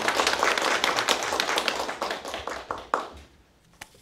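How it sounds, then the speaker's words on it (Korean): Audience applause welcoming a lecturer to a public lecture series: dense, close clapping for about three seconds, thinning into a few scattered claps before fading out. "큰 박수로 맞이해 주시기 바랍니다."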